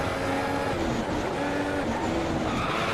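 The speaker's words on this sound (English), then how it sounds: "We actually give a little bit of a spin there, a half spin." An F1 video game race car on cold tyres spins halfway around, its engine droning loud and steady with wavering pitch and a faint tyre scrub throughout.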